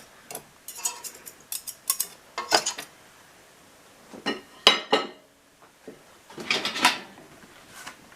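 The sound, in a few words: butter knife squishing homemade butter back into a bowl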